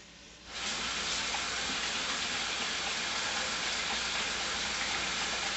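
Tap water runs steadily from a faucet as someone washes their hands in a home kitchen during chili cooking, a broad constant hiss starting abruptly after a brief quiet moment and continuing loud and unbroken.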